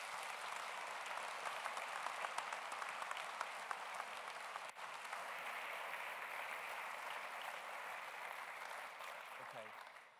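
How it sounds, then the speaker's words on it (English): Steady audience applause after a lecture and prize-giving ceremony, a dense even wash of many hands clapping that holds for about ten seconds before fading at the end. "I hope you'll give everyone a round of applause"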